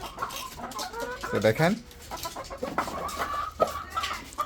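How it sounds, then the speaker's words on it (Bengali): Hill chickens, a rooster and a hen, cluck softly and intermittently on a farm, close by, while someone speaks over them. "এটা হচ্ছে একটা মোরগ আর এটা হচ্ছে মুরগি, জুটি মুরগি"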